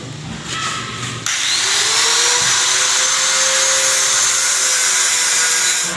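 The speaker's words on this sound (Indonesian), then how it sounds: "Setelah pengukuran besar, langsung kita pemotongan." Power tool cutting frame parts for a coconut husk peeling machine: after a quieter second, a loud, steady, close whine starts and holds without a break.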